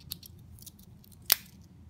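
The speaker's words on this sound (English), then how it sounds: "it's cool that they included full-size scissors." Full-size scissors on a Swiss Army knife give a single quiet crisp snip near the end of a faint, near-silent moment, with light handling ticks before it.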